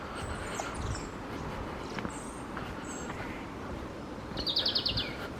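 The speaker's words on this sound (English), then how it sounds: "I was pausing because of all the birds" Several woodland birds chirp and call in short scattered bursts over a soft outdoor background, with a brighter rapid trill near the end, some near and some farther off.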